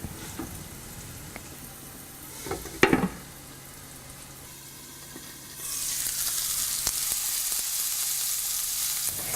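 Sweet potatoes sauté in a covered skillet, with a low sizzle, a brief clatter partway through, then a louder, steady hiss of frying that holds to the end.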